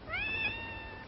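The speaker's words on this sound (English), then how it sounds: "Nice, kitty." A single cat gives one long, clear, rising-then-falling meow, close and alone with no talking.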